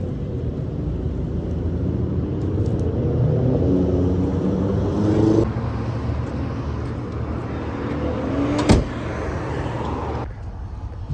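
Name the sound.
1963 Chrysler car driving on the road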